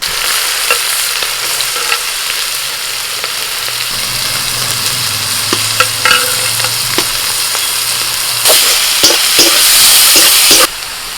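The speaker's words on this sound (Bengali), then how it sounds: "কড়াইতে সর্ষের তেল দিয়ে দিচ্ছি তেলটা গরম হয়ে গেছে একে একে সব কুচনো সবজিগুলো দিয়ে দিচ্ছি" Chopped vegetables hit hot mustard oil in a wok with a loud, close, continuous sizzle and spatter, scattered scraping clicks from stirring, and a burst of stronger frying near the end, with no one talking.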